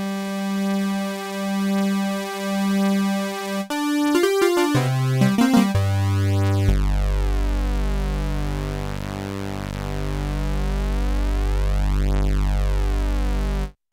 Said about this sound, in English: Turn on the second oscillator.